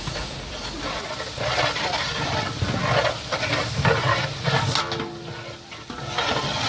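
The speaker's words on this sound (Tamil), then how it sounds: "நம்ம அரைச்சி வச்ச இஞ்சி பூண்டு பேஸ்ட்டு நல்லா சேர்த்து நல்லா கிளறி விட்டுருவோம்" Ginger-garlic paste being stirred into sautéed onions in a pan for chicken dum biryani, with steady close sizzling and scraping strokes running throughout, loud and continuous with no talk.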